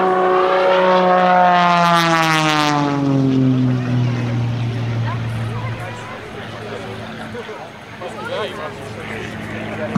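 An Extra 300 aerobatic plane at the 2005 Millville Airshow roars close by as it snaps into a 45-degree down line, its propeller whine sliding steeply down in pitch before settling into a steady drone, with a voice talking over it.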